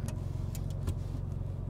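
BMW G80 M3 on the road, a steady low engine and road drone filling the cabin continuously, with a few faint ticks and clicks over it and no talking.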